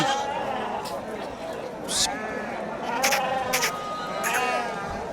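Goats and sheep bleat repeatedly at the Atpadi weekly livestock market, several loud, quavering cries rising over constant crowd chatter and nearby talking.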